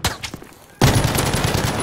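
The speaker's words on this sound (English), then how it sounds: "Mag dumping into enemies is the most enjoyable thing ever." Rapid light machine gun fire in a first-person shooter game, a loud burst of dense automatic shots that starts abruptly and keeps going after a brief stretch of quieter noise.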